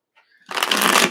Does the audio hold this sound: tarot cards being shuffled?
yes